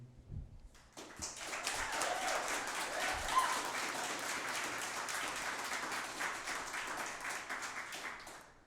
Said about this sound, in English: Very nicely done. Good applause.